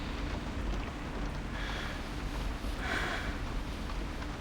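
Torrential rain in a video game traffic jam gives a steady, dense wash of noise, constant throughout with faint swells, and no voices.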